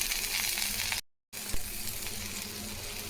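Spiced potato masala with chili powder, turmeric and salt simmers in a pan of added water, giving a steady close bubbling sizzle with a brief break partway through.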